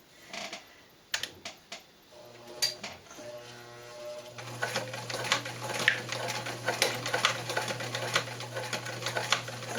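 Sewing machine stitching a denim cloth cover for a traveler's notebook, starting after a few quiet handling taps and then running in a steady, continuous whir with rapid needle clatter.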